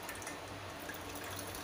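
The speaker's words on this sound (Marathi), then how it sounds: "हे बघा अजून पाणी निथळते" Water drips and trickles steadily from soaked finger millet (ragi) left tied up to drain while making papad, a soft, close, continuous patter with faint background hum.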